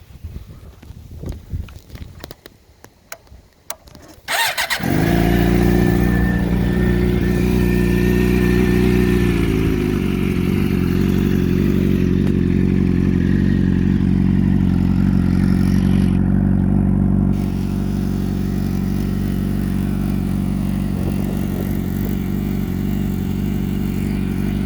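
A 2007 Suzuki GSX-R motorcycle fitted with a Coffman's shorty exhaust fires up after a few seconds of handling noise, then holds a loud, deep, rumbling idle close by that steadies after a brief higher rev.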